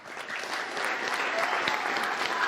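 A swimming club crowd gives dense, sustained applause mixed with cheering, the clapping building quickly at the start and then holding loud and steady throughout, with a few voices shouting inside the noise.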